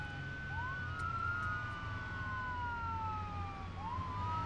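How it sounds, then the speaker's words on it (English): A police car siren in the Arma 3 video game wails in rising and falling sweeps over a low vehicle rumble, moderately loud and without speech. "I'm being followed by police hatchback."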